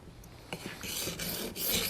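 Knife blade stroked against an Edge Pro Apex sharpening stone set at 15 degrees, a few close, rasping scrapes repeating in a loose rhythm.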